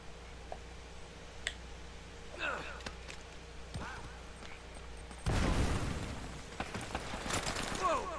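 A grenade explodes in Uncharted: Drake's Fortune with a sudden heavy blast about two-thirds of the way through, following a scatter of sporadic gunshots and clicks amid quieter game ambience.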